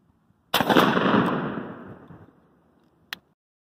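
Remington VersaMax 12 gauge shotgun with a 22-inch barrel and Carlsons Long Beard XR choke, firing a 3.5 inch 5-shot turkey load: one loud, close blast rolling off over about two seconds, followed by a sharp click.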